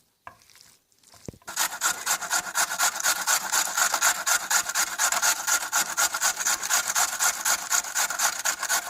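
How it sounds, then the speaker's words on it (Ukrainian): Raw potatoes rubbed over a hand grater in a home kitchen, a loud close rasping in fast steady back-and-forth strokes that runs continuously after a brief quiet start, with no voices. "дотираємо решту картоплі"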